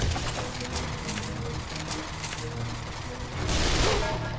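Bursts of rapid gunfire from a VR gun game, a series of sharp shots and mechanical clacks over a few seconds, fairly faint, ending in a louder burst.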